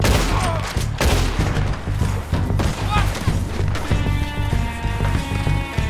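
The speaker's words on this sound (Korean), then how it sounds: "저기 위에 있는 놈 계속 쏘고 있었구나" Rapid bursts of gunfire from an enemy shooter in Red Dead Redemption 2, loud, close and repeated in a fusillade with booming impacts, mixed over tense game music.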